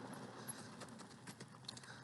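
Donkey hooves clip-clopping at a run on a ranch, a quick, uneven series of soft thuds at moderate distance over steady outdoor background noise.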